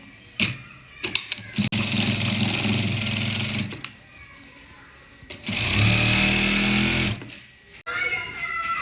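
A sewing machine stitches a salwar seam in two bursts of fast, steady whirring, each a few seconds long, separated by a quieter pause.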